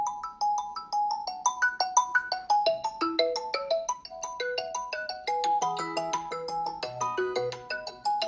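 A melodic ringtone plays continuously through the stereo speakers of a Xiaomi 13 Ultra phone, bright chiming notes with a steady bass line, loud and close with no talking.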